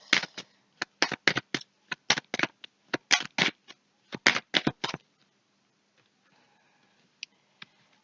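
Playing cards shuffled for a tarot-style reading draw: a rapid run of crisp riffling bursts close to the microphone for about five seconds, then near silence broken by a few faint taps.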